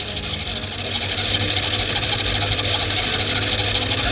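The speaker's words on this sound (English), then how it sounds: "This is actually very bad noise from the machine. It is totally abnormal." Loud, steady mechanical droning from the motor of a Samsung DV80M5010QX clothes dryer with an abnormal motor fault, a harsh continuous whir with rough vibration that holds unbroken and slightly swells through the clip.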